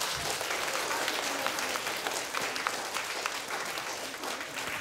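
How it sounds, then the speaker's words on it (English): A church congregation at a Chinese Baptist vacation Bible school presentation gives the young kids another round of applause, loud dense clapping that holds steady and close throughout. "Would you give them another round of applause for these young kids?"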